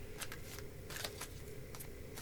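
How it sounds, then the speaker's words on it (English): A deck of cards being shuffled, with a few quick riffling bursts over a faint, steady background hum, close and quiet. "as I'm shuffling these cards"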